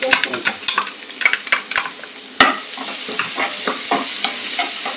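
Chilli masala frying in a pan over a low gas flame, a steady close sizzle broken by repeated scraping stirs and light clinks of a utensil against the pan.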